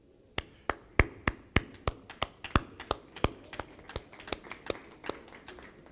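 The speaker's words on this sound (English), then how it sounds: "colleagues, you are clapping for me" Slow, sparse clapping from a small audience at a labour ministry launch event, about twenty distinct sharp claps at a steady unhurried pace, fairly faint.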